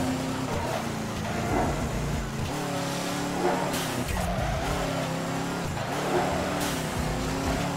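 A yellow McLaren racing in Midnight Club 3, engine droning and revving up and down with tire squeals over continuous game audio, loud and sustained.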